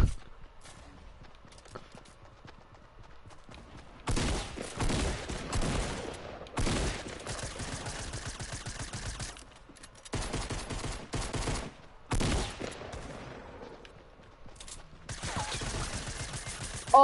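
Shotgun gunfire in a video game: loud, dense bursts of shots and impacts come in several rapid volleys separated by quieter gaps, close and harsh.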